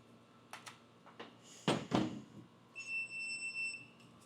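A hydroponic indoor garden unit beeps after being plugged in: a steady electronic tone sounds in the last second and a half, following a few clicks and knocks of handling in a quiet room, with no talking.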